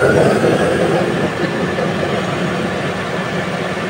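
A long-idle engine, fed by a newly fitted electric fuel pump, runs with a loud steady rumbling drone and a constant mechanical whine up close, slightly louder at the start and then holding even.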